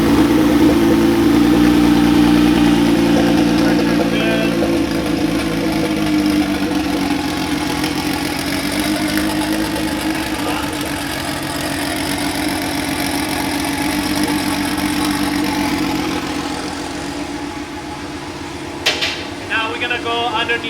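A V6 twin-turbo engine swapped into a Kia idles steadily nearby with a low, even drone, joined by a few sharp metallic clanks near the end; someone speaks briefly over it.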